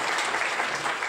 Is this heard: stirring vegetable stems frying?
no